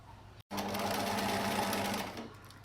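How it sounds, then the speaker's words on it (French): Sewing machine stitching striped fabric for a face mask, a steady close whirring run of about a second and a half after a brief pause, then slowing to a stop. "Toujours délicat de coudre dans des tissus lignés."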